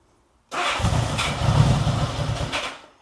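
A warm 1975 Honda Goldwing motorcycle engine starts with no throttle: after a brief silence it cranks, catches and runs roughly for about two seconds, fairly close and loud, then fades out.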